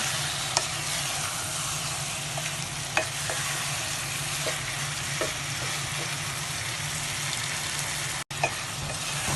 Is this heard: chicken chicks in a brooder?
no